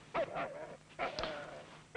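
A dog in a 1972 television drama gives short yips and whimpering cries in a few separate bursts. It sounds faint and somewhat distant, with no talking.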